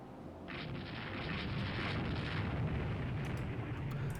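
Warship secondary guns fire in Rule The Waves 2 as a steady, dense roar of overlapping booms. It swells after a brief quieter start and then holds loud and continuous to the end.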